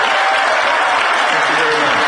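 Audience applause fills a CPAC conference hall for Tom Coburn, a dense, steady clatter of many clapping hands sustained throughout at close, loud level.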